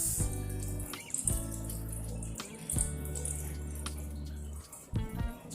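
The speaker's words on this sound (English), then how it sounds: "she's letting that water run" Water runs steadily from a kitchen tap into a sink while bread dough is being prepared, a continuous splashing flow with a few brief clinks and drips, heard alone at fairly low volume.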